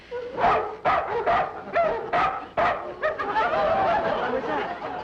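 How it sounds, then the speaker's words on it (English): Several dogs bark in quick, loud bursts from nearby in a vintage sitcom scene, followed by a denser stretch of overlapping yips and whimpers. "They've got barking dogs."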